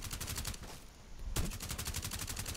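Rapid automatic gunfire in Rainbow Six Siege on the Oregon map in a hostage match: dense, even bursts of shots, a brief pause, then more sustained firing.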